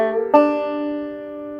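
A bluegrass banjo roll with a slide added: a few quick plucked notes lead into a strong picked strike, then the strings ring on and decay gradually, solo and up close.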